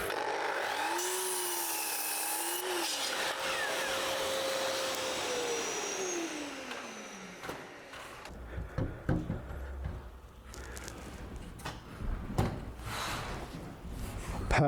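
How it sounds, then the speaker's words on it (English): A Hoover vacuum cleaner with a full bag whines loudly, its motor pitch gliding and then dropping away as it is switched off, followed by knocks and handling clatter. "I think the Hoover bag is full because the dust is just going everywhere"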